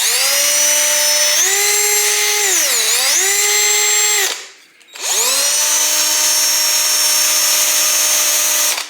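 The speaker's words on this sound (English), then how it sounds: "This is a very light wire brush." A light wire brush spins on a power tool cleaning the grungy fuel inlet of a 2006 Honda CRF450R, a loud, steady high whine whose pitch dips and rises under load, pausing briefly midway before resuming.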